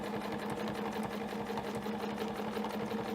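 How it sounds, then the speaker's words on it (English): A sewing machine running steadily as it stitches fabric for a snowflake ruler quilting pattern, a dense continuous mechanical whirr with fast needle chatter, close and unbroken, with no voices. "I'm going to sew to the third one on this side, back to the centre, rotate the work, do exactly the same."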